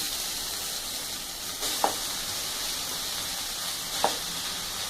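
Ponnanganni greens sizzle and crackle steadily in a hot pan with onions, with a couple of brief stirring clatters.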